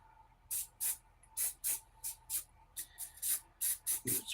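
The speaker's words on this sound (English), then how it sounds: "And now I'll get my hairspray can." A hairspray can spraying onto model train tree foliage in a series of short, close hissing bursts, about a dozen quick puffs in an uneven rhythm, with no talk.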